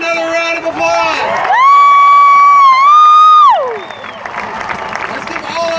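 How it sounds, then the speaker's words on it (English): Outdoor rally crowd at a protest march cheering and whooping with scattered applause, a loud sustained shout rising over the noise mid-way before the crowd roar settles back. "Give her another round of applause."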